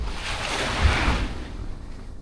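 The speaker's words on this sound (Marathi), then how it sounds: "लाटांचा अखंड आवाज" Sea waves wash onto a sandy Konkan beach at Vengurla in a continuous, broad surf roar with a gentle swell in the middle, steady and close, with wind and no talk.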